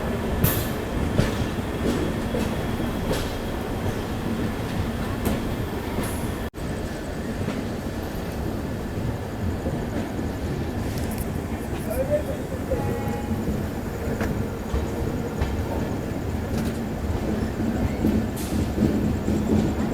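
Goa Express pulling out of Belagavi station, heard from inside a 3-tier economy coach: a continuous rolling rumble with faint wheel clatter and occasional squeal, fairly quiet and steady, with muffled voices in the background.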